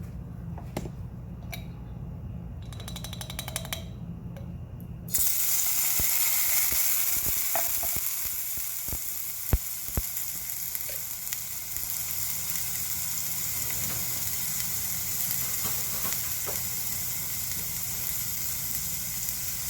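Garlic hits a hot pan and bursts into a loud, steady sizzle after a few seconds of quieter kitchen clatter, with scattered ticks and spatters continuing throughout.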